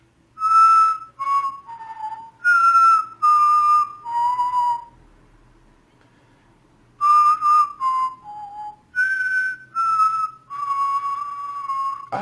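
Someone whistles a song as a solo melody in several clear phrases, with a pause midway, close and fairly loud with no talking.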